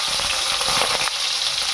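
Onions hit smoking-hot oil for a village-style fish curry, giving a loud, continuous close-up sizzle and crackle with no letup.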